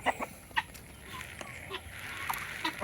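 Heritage chickens clucking in short scattered bursts, a few calls standing out against a quiet rural outdoor background.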